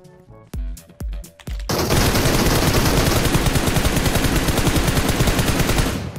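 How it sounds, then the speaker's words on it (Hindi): Rapid automatic gunfire in PUBG Mobile, a few separate shots at first, then an unbroken loud burst that runs for about four seconds before cutting off. "मेरी गोली रुकी नहीं रही, अपने आप चली जा रही है फायर।"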